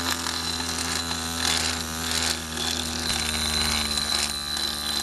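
A motorized power float files a horse's front premolar teeth, giving a steady, close, loud mechanical grinding whir with a constant hum that runs without a break from start to finish.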